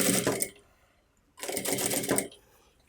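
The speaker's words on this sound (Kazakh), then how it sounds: "4 жағын айналдырып тігіп шығамыз." A sewing machine stitches around the four edges of volleyball fabric panels in two short bursts of rapid mechanical whirring, the second longer, with a brief quiet gap between them.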